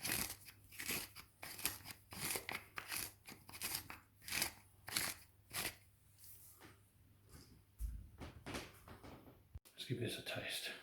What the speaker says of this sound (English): crack some black pepper onto this